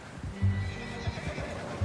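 A horse neighs in the Red Dead Redemption video game, a close, loud whinny set against faint hoof clip-clop and a quiet outdoor ambience.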